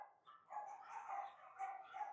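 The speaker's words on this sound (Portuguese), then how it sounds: "Espero que não fique muito com o barulho do cachorro aí do fundo." A dog barks in the background outdoors, a run of muffled, distant yapping barks and whimpers, faint and alone.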